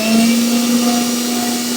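Tornado blender motor running steadily at constant speed, a loud continuous whine with a strong steady hum, close and alone with no talk.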